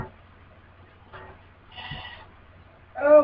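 Sheep bleating in a survival video game, a quiet bleat near the middle followed by a louder, closer bleat at the end over a low steady hum.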